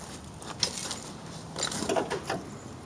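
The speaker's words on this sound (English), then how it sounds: "You have a remote hydraulic lift in the back, 3-point hitch, which is controlled by this lever," Remote hydraulic lift and three-point hitch on a Belarus 300 diesel tractor moving, heard as faint, scattered mechanical clicks and creaks with a couple of brief louder rattles, no voices.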